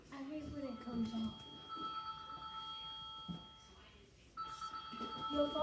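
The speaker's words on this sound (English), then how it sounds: "Your phone ring it." A telephone rings in a home, a steady electronic tone sounding across the whole stretch beneath nearby talk and household movement.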